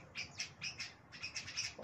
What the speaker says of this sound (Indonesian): burungnya kecil-kecil tapi suaranya kencang banget nih.